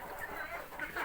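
Arab laying hens cluck softly in a faint, brief burst of scattered calls, quiet and somewhat distant.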